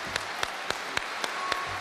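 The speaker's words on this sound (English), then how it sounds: "Let's receive him with a warm round of applause." A broad wash of crowd applause at a speech event welcoming Louis Farrakhan, with regularly spaced, sharper claps standing out on top, steady and sustained.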